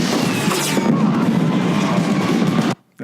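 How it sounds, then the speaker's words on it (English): A dense, continuous barrage of booms and crackling bangs, loud and close, filling the scene before cutting off abruptly near the end. "it's the sound of fireworks and all hell breaking loose"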